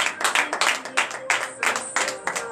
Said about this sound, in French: manifestez votre reconnaissance à l'Éternel en lui donnant de vives acclamations